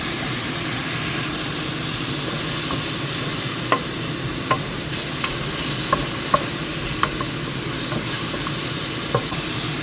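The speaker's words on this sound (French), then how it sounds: "maintenant je vais y ajouter du curcuma et je vais roussir mes oignons comme on dit chez moi" Onions with turmeric frying in olive oil in a saucepan give a steady, close, loud sizzle throughout, punctuated by several sharp clicks of a utensil against the pan as they are stirred.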